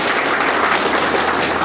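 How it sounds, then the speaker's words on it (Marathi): A crowd at a local fishermen's cooperative gathering claps, a dense, even burst of many hands close by, with no voices over it. "त्याच्या पुन्हा एकदा टाळ्या वाजवा"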